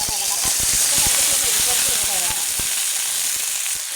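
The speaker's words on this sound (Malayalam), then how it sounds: "ഞാൻ ഈ കടുക് താളിച്ച് അതേ പാത്രം തന്നെ സെയിം പാത്രം തന്നെ എടുത്തത്" Mustard seeds crackle and sizzle in hot oil for tempering, a dense steady hiss with rapid popping clicks throughout, close and loud.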